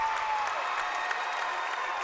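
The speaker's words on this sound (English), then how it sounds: "here comes that Raider crowd" At a high school basketball game, the Raider home crowd cheers and applauds in a gym, a steady wash of clapping and shouting that stays loud and even throughout.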